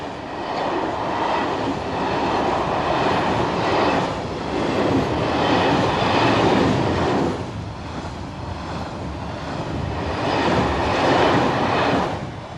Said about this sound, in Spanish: los trenes de carga añaden su estruendoso rugido al gentil movimiento de las olas a lo largo del lago Mayor